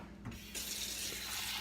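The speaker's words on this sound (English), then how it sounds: "fill it with some water," Water running from a tap begins partway through, a steady broadband rush filling a cup, with a short clatter just before it starts.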